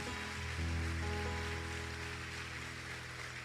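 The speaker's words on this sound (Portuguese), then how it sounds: "Você pode aplaudir ao Senhor? Faça isso com alegria." Church congregation applauding, a dense, steady wash of clapping that holds for several seconds with low sustained tones running underneath.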